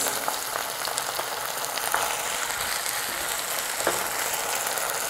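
Chilli paneer in tomato sauce, red chili sauce and soy sauce fries over lowered heat, making a continuous dense sizzle with light scraping stirs close by.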